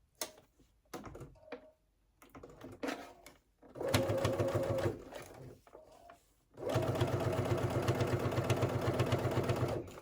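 A sewing machine stitches along the edge of a beauty bag, first in short starts and a brief run, then in a steady, sustained run of stitching for the last few seconds.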